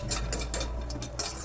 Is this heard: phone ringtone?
no